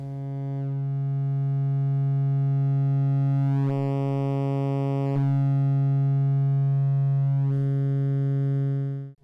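Steady synthesizer tone from a Make Noise Maths modular module shaped into a roughly triangular waveform, sustained and loud throughout with brief timbral sweeps midway, then cutting off at the end; no talking.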